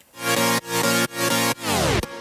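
A Sylenth1 saw-wave synth patch with a light chorus effect, playing a lush, bright chord stab repeated in short held bursts, then a final note that sweeps downward in pitch, with no voices.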